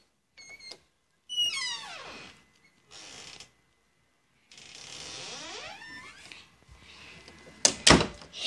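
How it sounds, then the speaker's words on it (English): Bedroom door handled and shut in a quiet room: creaking, latch and ratcheting mechanism clicks in separate bursts, ending with a sharp close thunk and rattle near the end. "Close the door."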